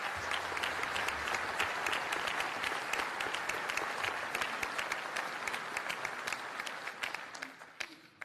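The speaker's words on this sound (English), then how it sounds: "Another round of applause, please." A room full of guests at a Patriot Day breakfast applauds, dense sustained clapping at an even level that thins toward the end.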